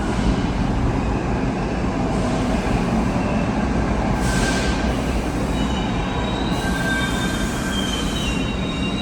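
An R62A 1 subway train pulls into 23rd Street station and leaves again, with a loud, steady rumble of wheels on rail and sustained high wheel squeal throughout.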